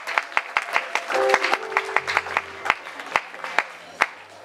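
An audience claps in a loose, uneven patter at a church gospel album presentation, sharp individual hand claps standing out over sustained musical tones in the background.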